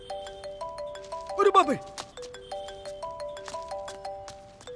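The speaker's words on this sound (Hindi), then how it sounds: "वाह, क्या रिंगटोन लगाई है तूने?" A mobile phone ringtone in a Hindi-dubbed action movie scene plays a repeating electronic melody of bright tones, cut briefly by a loud spoken exclamation partway through.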